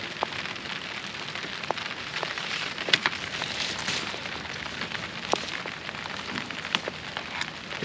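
Rain falls steadily on an outdoor tomato harvest, a continuous soft hiss scattered with sharp individual drop taps, fairly faint and with no voices.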